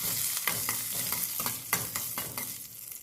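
Curry leaves and spices fry in a pan for a peanut chutney, a close crackling sizzle with repeated sharp spatula scrapes and stirring strokes, loud and steady with no voices.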